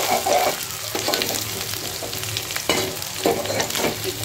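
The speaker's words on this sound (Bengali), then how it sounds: "চিংড়ি শুটকি দিয়ে দিয়েছি, একটু তেলে ভেজে নিই।" Dried shrimp frying in hot oil in a pan, a steady bubbling sizzle with occasional stirring scrapes and surges, close by and with no one talking.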